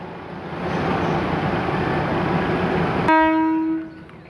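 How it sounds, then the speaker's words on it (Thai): A train departing Ban Laem railway station in Thailand rumbles and clatters steadily nearby, then a loud horn blast sounds near the end and fades as the train keeps moving. "เราก็มาดูขบวนรถไฟออกจากสถานีบ้านแหลมนะครับผม"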